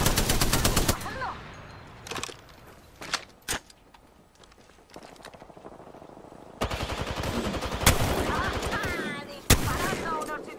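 Automatic weapon fire in Apex Legends crackles in sharp bursts, a loud burst at the start, scattered shots in the middle, then a sustained rapid volley toward the end, with occasional voices underneath.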